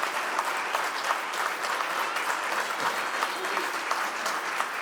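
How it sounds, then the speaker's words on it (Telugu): An audience applauds at a public gathering honouring an award-winning farmer, sustained dense clapping that carries evenly throughout, with faint crowd murmur underneath. "చప్పట్లతో అభినందించుదాం."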